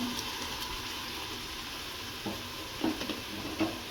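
Washed basmati rice goes into a pot of palak pulao and gets stirred, making a soft ongoing sizzle with a few light scrapes and clinks toward the end, faint and without talk.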